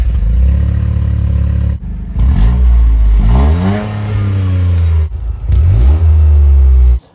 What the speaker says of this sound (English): 3 exhausts at the back. Sounds really nice.